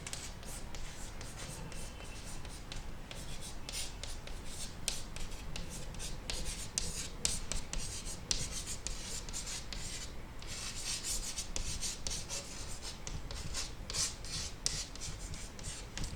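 Pen writing a statement on paper while solving a class 10 polynomial math problem: continuous close scratching and rubbing strokes with short pauses, steady and fairly quiet, with no talking.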